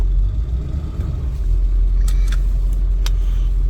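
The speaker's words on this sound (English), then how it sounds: "Truck takes all the gears with no problems." A 2002 Ford F-350 pickup truck drives on a road test after an alignment, its engine a steady, loud low rumble heard from inside the cab, with a few faint clicks and rattles over it.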